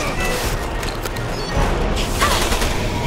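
Video game gunfire rattles in scattered bursts amid a noisy mix of booms and crashes, with shots coming from nearby and some from a distance.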